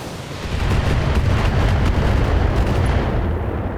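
Mech weapons in the Battletech video game let loose a loud, dense barrage, with booming blasts and rumbling impacts merging into one continuous roar for several seconds.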